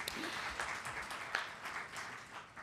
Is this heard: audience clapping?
yes